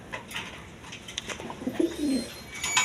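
A pair of Jacobin pigeons coo softly a few times close by, low throaty calls over faint background chatter of other birds.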